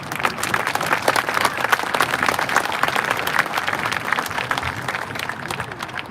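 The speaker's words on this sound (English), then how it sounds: "So can we give him an applause," Sustained applause from an audience at a school district meeting, dense clapping that holds steady for the whole stretch.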